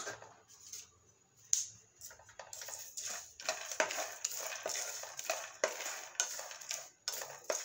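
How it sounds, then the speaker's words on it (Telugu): Caraway and cumin seeds being fried in a pan for stuffed brinjal curry: quiet crackle with repeated sharp clicks and scrapes of stirring, faint at first then busier. "1 టేబుల్ స్పూన్ షాజీరా, 1 టేబుల్ స్పూన్ జీలకర్ర. సో ఇవి బాగా వేయించుకోవాలి"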